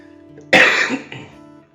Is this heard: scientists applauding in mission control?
no